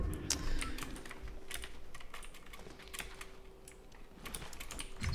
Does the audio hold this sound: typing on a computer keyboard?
yes